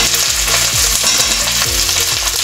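Chopped tomatoes hit hot oil in a pan with ginger-garlic paste, sizzling loudly and steadily while a utensil scrapes and stirs in a repeating rhythm, with no voices over it.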